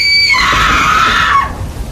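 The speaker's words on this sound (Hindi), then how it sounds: "यह चीख इतनी दर्द भरी थी कि हर सुनने वाले की रूह कांप जाती।" A woman's painful scream used as a story sound effect: one loud, piercing, sustained shriek lasting over a second, then breaking off abruptly into quiet.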